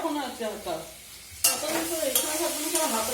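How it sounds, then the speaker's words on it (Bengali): Potatoes fry in plenty of oil while a ladle stirs them, a steady sizzling hiss broken by scraping strokes against the pan, close and fairly loud, with a voice humming or talking faintly underneath. "আলু ভাজাতে কত তেল দিয়েছি"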